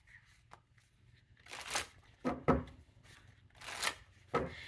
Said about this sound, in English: And you saw me shuffle.